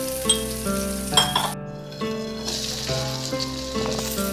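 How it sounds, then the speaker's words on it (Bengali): Chopped onions sizzle and fry steadily in a pan for an onion and hilsa fish dish, with a few light metallic clinks of a utensil against the pan, close and fairly loud with no talking. "পেঁয়াজটা একটু হালকা ভাজা হয়ে গেলে"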